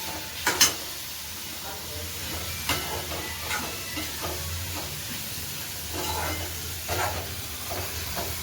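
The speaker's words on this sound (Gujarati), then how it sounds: "ભાભીએ વઘાર મસ્ત કર્યો હો, દાળ કમ્પ્લીટ થઈ જાય." Low, steady sizzle of a spice tempering for dal in hot oil, broken by a few sharp clinks and scrapes of a spoon stirring the pan.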